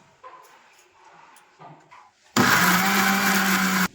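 A kitchen mixer grinder grinding fried bottle gourd starts abruptly after some soft background sounds and a small dog's whimpers, then runs as a loud, steady whir for about a second and a half before stopping.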